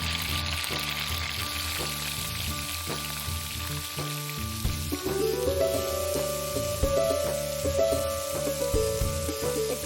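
Spices with bay leaf and ginger paste frying and sizzling in oil in a Bengali home kitchen, with steady crackling hiss and the soft scrape of stirring throughout, loud and close.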